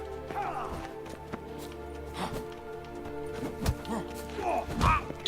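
Horse hooves clip-clop through a combat scene in the video game The Witcher 3, with several sharp thuds under shouting voices and background clatter, fairly close.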